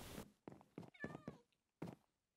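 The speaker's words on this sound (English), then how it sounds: "Cat." A Minecraft cat gives a short series of soft meows in the video game, about five brief calls separated by short pauses, with no voices heard.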